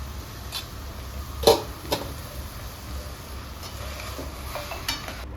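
Spices with red chilli powder and coriander powder fry in a pan for pav bhaji while a spoon stirs, giving a steady close sizzle broken by a few scraping knocks against the pan, with no voices.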